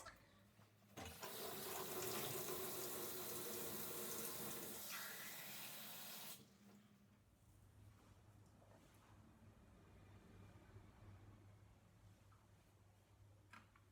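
Tap water pours hard into a glass for about five seconds, loud and close, then shuts off, leaving a quiet low hum with faint small sounds in an indoor kitchen or sink setting.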